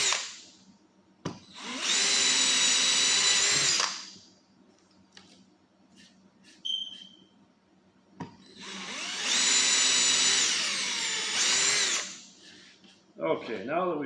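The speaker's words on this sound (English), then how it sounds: "So I'm just going to drill these through." A power drill bores pilot holes for a VersaChock blind fastener system, two long steady whining bursts of several seconds each, separated by quieter pauses with small clicks and handling noises.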